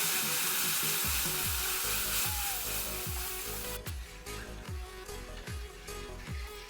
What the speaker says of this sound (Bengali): যখন এই তেঁতুলের এই ডিম আর তেঁতুলের মিশ্রণটা দেব, তখন একদম মানে নাড়তে থাকতে হবে